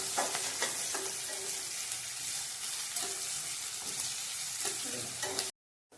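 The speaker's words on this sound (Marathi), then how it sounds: "हलकासा सोनेरी कलर येईपर्यंत कांदा तेलात चांगला भाजून घ्यायचा" Chopped onion fries in oil for kanda poha, a close, even sizzle with a few soft taps of stirring, ending abruptly in silence.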